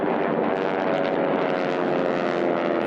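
T6 racing aircraft overtake at a pylon air race, a loud continuous propeller-engine drone that holds steady and close for the whole stretch, with no voices over it.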